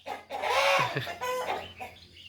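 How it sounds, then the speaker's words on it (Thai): Chickens cluck loudly and close by at dusk, in a burst of squawking calls followed by a few shorter clucks. "ไก่เสียงดังหน่อยนะครับ"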